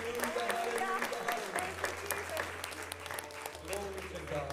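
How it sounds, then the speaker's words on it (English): A church congregation claps along steadily during worship, with a continuous wash of hand claps under singing and voices, a low organ-like drone sustaining beneath the crowd. "Clap your hands one more time unto him."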